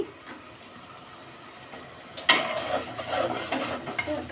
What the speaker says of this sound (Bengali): একটু ভালোভাবে নাড়াচাড়া করে কষিয়ে নিচ্ছি